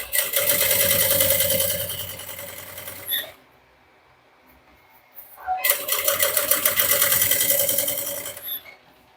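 Sewing machine backstitching the EVA structure of a mini bucket bag: a rapid, buzzing stitch run of about three seconds, a pause of near silence, then a second equally loud burst, each ending with a small click.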